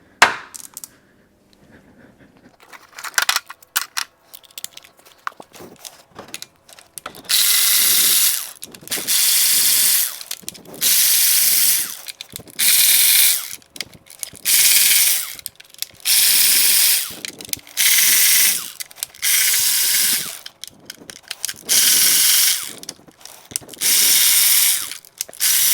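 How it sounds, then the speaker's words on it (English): A ratchet clicks away removing E10 Torx bolts from the camshaft cover of a GM Ecotec 1.4L turbocharged engine, repeated bursts of rapid pawl clicking separated by short pauses, close and alone. "we're ready to start taking off these torx bolts. These are an E10 size."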